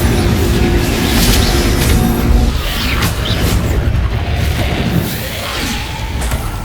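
A Confringo blasting curse explodes in Hogwarts Legacy, loud booming blasts with rumbling crashes and whooshing bursts layered over one another, filling the whole stretch before easing slightly toward the end.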